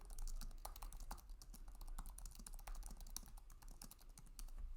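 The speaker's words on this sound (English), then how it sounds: "So I'm going to type in here" Close typing on a computer keyboard in Microsoft Word, a quick irregular run of light key clicks with no talking.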